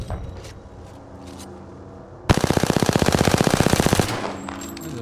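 Automatic gunfire in Apex Legends rattles out as a rapid, loud, evenly spaced burst of about twenty shots lasting nearly two seconds, with quieter game sounds before and after.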